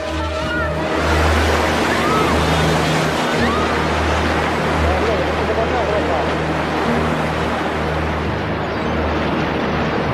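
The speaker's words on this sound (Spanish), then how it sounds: "Es una sucesión de olas que seguirán llegando durante muchas horas" Tsunami waves surge onto a coast in a loud, continuous roar of churning water with low rumbling, sustained throughout without pause.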